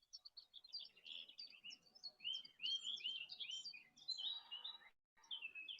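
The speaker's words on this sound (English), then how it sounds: "We've got a Woody Woodpecker. Woodpecker in the house." Outdoors, a woodpecker gives a rapid series of high chirping calls, faint and somewhat distant, with the calls crowding together through the middle and pausing briefly near the end.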